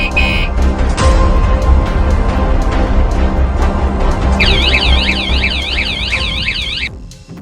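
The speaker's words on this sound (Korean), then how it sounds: "경보음이 울리니까 즉시 무슨 일이 생겼는지 알 수 있으므로 도난 방지에 도움이 됩니다" A loud electronic bicycle anti-theft alarm, the Noeullim 3.0, blares continuously, shifting into a rapid warbling wail before cutting off.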